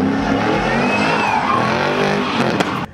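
Tires squeal and skid as a custom-built truck does donuts, with the engine roaring loudly and continuously. The squeal wavers over three seconds and ends abruptly.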